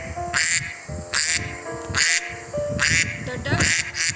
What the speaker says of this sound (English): The duck says quack.